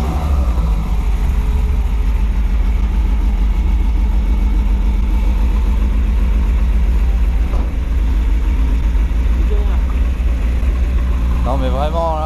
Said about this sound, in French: le ralenti doit être haut